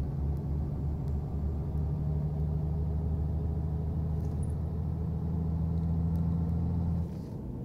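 A MAN bus engine in a driving game revs and accelerates through high gears, a steady low drone that holds loud and even before easing off slightly near the end.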